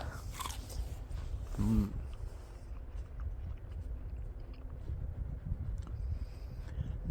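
Close-up crunchy bites and chewing of a juicy Early Shu pear, one clear bite then continued soft munching.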